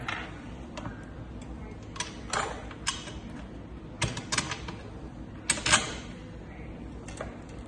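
A bolt tightened on an extension arm during assembly, heard as a series of faint, irregular metallic clicks and ratcheting ticks over a quiet room background.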